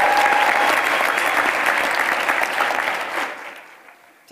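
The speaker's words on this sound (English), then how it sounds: "Let's also give your family and friends a round of applause" A commencement audience gives a round of applause, loud and dense clapping from a large crowd that gradually thins and fades out, ending with a sharp knock.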